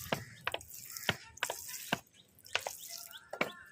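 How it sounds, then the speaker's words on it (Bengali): Water poured from a container onto the soil of a potted plant on a hot day, heard as close, intermittent splashes and drips in uneven bursts with quieter trickling between them. "দেখো ভর্তি করে জল দিচ্ছি, একটু পরেই মাটি টেনে নেবে।"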